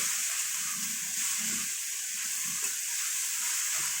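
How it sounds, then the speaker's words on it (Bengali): Banana flower being sautéed in a spiced pan gives a constant close sizzle and hiss, with occasional light stirring scrapes and no speech. "এই যে মোচাটা দিয়ে দিচ্ছি। এটা দিয়ে ভালো করে ঢেকে ঢেকে কষে নিতে হবে।"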